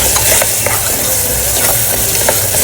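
Mutton curry masala with ginger garlic paste being stirred in a hot pan: a steady, close sizzle with scraping stir strokes running throughout.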